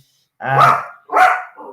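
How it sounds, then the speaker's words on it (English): A dog barks close and loud, two sharp barks followed by a shorter, softer one, with nothing else audible. Fireworks are going off outside. "Ted might bark during the stream because unfortunately there's fireworks"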